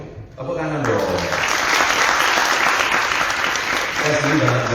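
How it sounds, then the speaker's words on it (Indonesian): Sustained audience applause fills a large hall at a Bali youth gathering, dense steady clapping rising in the first half-second and holding loud throughout, with faint voices and crowd murmur underneath. "Tepuk tangan saja tidak cukup, harus yang terbaik untuk beliau. Tepuk tangan dong."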